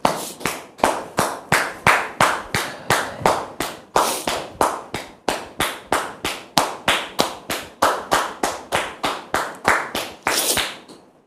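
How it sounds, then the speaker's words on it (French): Rhythmic clapping welcoming a guest onto a French-language talk show stage, loud, close, unison claps repeating at a steady quick beat for about eleven seconds before stopping. "Sous vos applaudissements, s'il vous plaît."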